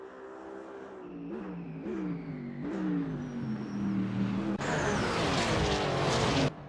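GT race cars lapping Spa-Francorchamps during a GT World Challenge qualifying session, engines droning steadily through gear changes with a louder, closer roar swelling near the end, heard alone without voices.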